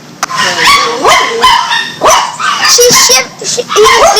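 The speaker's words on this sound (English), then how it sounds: "You got dogs here in the water, Shirley." Several dogs caught in hurricane floodwater bark and yelp in repeated loud bursts, with whimpers and yips between, while people talk and shout over them nearby.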